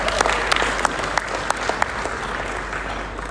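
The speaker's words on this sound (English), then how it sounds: "Give yourself a round of applause," Wedding dinner guests applauding, a sustained patter of many hands clapping with a few sharper, louder claps standing out at intervals, filling the room throughout.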